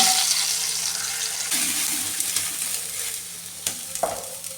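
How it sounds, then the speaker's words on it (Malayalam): Chicken curry in ground coconut gravy being mixed in a pan after the flame is turned off, with soft scraping and stirring over a faint background hiss and a few louder clatters near the end. "ഇതെല്ലാം കൂടെ നന്നായിട്ടൊന്ന് മിക്സ് ചെയ്ത് കൊടുക്കാം"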